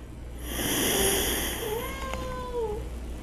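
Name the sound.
cats meowing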